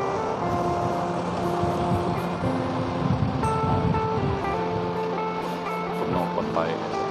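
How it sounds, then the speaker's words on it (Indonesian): Strong wind buffets the microphone on a busy beach at Pantai Lutong in the evening, a constant low rumble and rush that continues under a voice speaking throughout. "Angin terlalu kuat."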